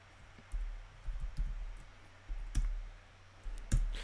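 A computer keyboard clicks in a few short, scattered bursts of keystrokes, fairly close and moderately loud, against a quiet hum with no talking.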